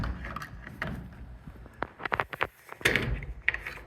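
Shed doors on a 10 x 16 Heartland Silverton kit shed being fitted in bitter cold: a series of sharp knocks, clacks and a few slam-like thuds from door hardware, close by and irregular, with no talking.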